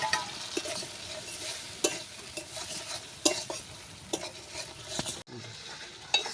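Spice masala with salt and turmeric frying in hot oil, a steady close sizzle broken by repeated scraping stirs of a spoon against the pan, with a brief sharp drop near the end.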